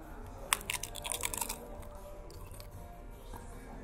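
Crunchy tacos get bitten, giving a short run of sharp, crackling crunches up close. Quieter chewing follows, with no talking.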